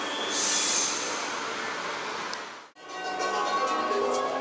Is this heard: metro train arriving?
yes